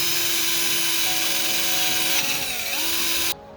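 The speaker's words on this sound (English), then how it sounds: "I used the wire wheel first, and then I used a less dense wire" A wire wheel polishes an aluminum turbo with a loud, steady high-pitched whine and grinding hiss. The pitch dips slightly near the end, then the sound cuts off abruptly.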